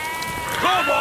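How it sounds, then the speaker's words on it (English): Sheep bleat in a couple of short, wavering calls on a rural road, close by, with people talking over them. "Will you move your sheep?"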